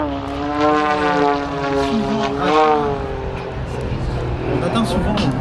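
Extra 330 aerobatic propeller plane, 330 horsepower, flying at an air show in Prouvy-Valenciennes; a loud steady engine drone with rising and falling pitch sweeps throughout, with a commentator talking over it.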